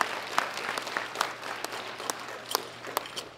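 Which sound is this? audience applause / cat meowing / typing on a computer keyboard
audience applause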